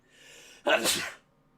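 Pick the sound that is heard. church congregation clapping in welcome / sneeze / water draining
sneeze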